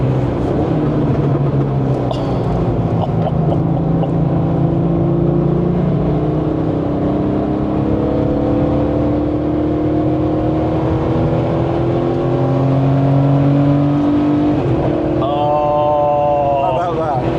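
A Porsche 964 3.8 RS lapping Goodwood in the dry gives a continuous engine drone that rises and falls through gear changes, heard from inside the car under steady conversation.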